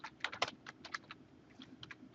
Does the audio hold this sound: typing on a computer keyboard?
yes